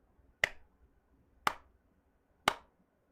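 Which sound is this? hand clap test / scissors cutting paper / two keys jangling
hand clap test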